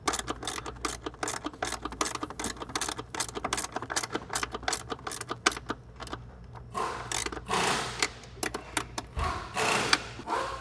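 A ratcheting wrench tightens nylon lock nuts on fuel fittings during a Nissan 370Z fuel return system install, giving rapid, close, steady clicking in quick bursts with brief pauses between runs.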